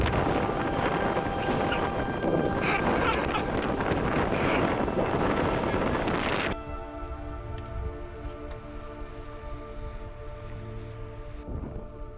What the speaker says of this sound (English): The wind has been insufferable, but it's beautiful out.